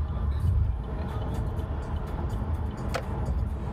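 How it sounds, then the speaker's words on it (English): Road traffic rumbles past the cabin of a Chevy Bolt EV driving through heavy congestion, a steady low drone with a brief brighter hiss near the end. "I'm in some hairy traffic right now,"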